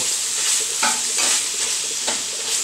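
Sauerkraut casserole frying in a pan, a close, continuous sizzle broken by a few scraping stir strokes.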